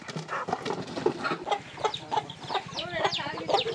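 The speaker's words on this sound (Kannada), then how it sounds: "ಮರಿ ಕೋಳಿ" Country chickens cluck and chicks peep in a busy, overlapping stream of short calls, close by and irregular, with sharp rising chirps toward the end and no clear speech.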